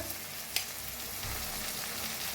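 Spices are stirred into onion and tomato frying in a pan for a ridge gourd curry, a quiet, steady sizzle close by, broken once by a sharp click of a spoon against the pan, with no talking.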